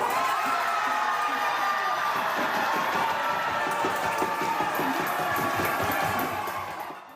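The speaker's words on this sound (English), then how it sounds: "The victory sending the crowd into a frenzy over at Spain's official headquarters at Lower Town" A crowd at Spain's official football watch party in Lower Town, ByWard Market, Ottawa, cheering and shouting in a dense, sustained roar that fades at the very end.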